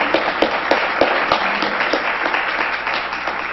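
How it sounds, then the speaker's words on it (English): Conference audience applauding a woman being thanked, a steady wash of many hands clapping at moderate distance with a few sharper nearby claps, no talk over it. "Can we give her a round of applause?"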